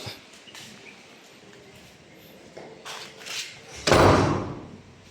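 A door handled indoors during home electrical work on a three-way switch: light knocks and rattles build up, then one loud, close thump as it shuts, with no talking.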